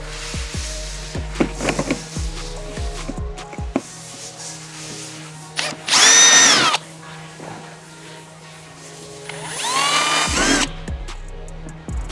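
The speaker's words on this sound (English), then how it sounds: "Now I can grab an 8mm drill bit, drill, and put my nuts in." A power drill with an 8mm bit drills into a Toyota GR Corolla for a rear diffuser install, running in a couple of short, whining bursts, with clicks and handling clatter between them.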